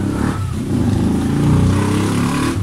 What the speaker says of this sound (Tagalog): medyo maingay kasi malapit talaga kami sa karsada at itong mga sasakyan dito ay walang tambutso